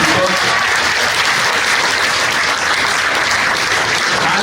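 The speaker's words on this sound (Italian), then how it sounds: "facciamo un applauso enorme a Lucia, che è la coordinatrice di tutto" Audience at the Pelmo d'Oro awards ceremony breaking into loud, sustained applause: dense clapping that stays steady and close throughout, with no talk rising above it.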